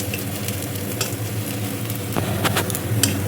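Onions fry in a pan over a high gas flame, giving a steady close sizzle with soft stirring scrapes and a few brighter crackles, and no voices.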